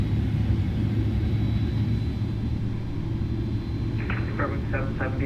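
Engines of an iniBuilds A310 in Microsoft Flight Simulator spool up for takeoff as a steady, heavy low rumble. A few short chiming tones sound near the end.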